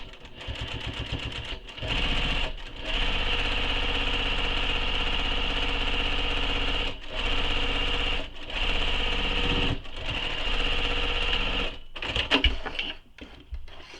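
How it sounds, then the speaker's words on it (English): A sewing machine stitches a second row in fast, loud mechanical bursts, stopping briefly several times between runs before a final stretch of uneven clatter, with no talking. "And then back down to sew that second row of stitching."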